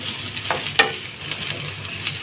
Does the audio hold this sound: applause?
no